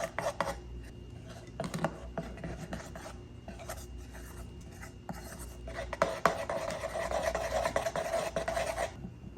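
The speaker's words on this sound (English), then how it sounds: "keep mixing this until the batter forms and no lumps" Egg batter for dumplings being mixed in a bowl, with continuous scraping and clinking of a utensil against the bowl, moderately quiet and growing busier toward the end.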